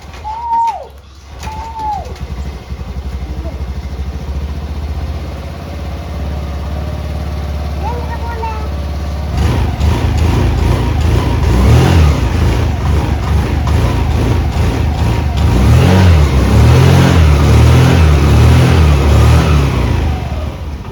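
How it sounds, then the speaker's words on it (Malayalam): A two-wheeler is kick-started and then idles with rising revs, its engine running steadily and close for the second half, louder toward the end, after a quieter stretch with a few bird chirps. "അങ്ങനെ നമ്മുടെ വണ്ടി കിക്കറടിച്ച് നമ്മുടെ ബാറ്ററിയിൽ ഇത്തിരി ചാർജ് കയറ്റണം എന്നാണ് എൻ്റെ ഇപ്പോഴത്തെ ആഗ്രഹം"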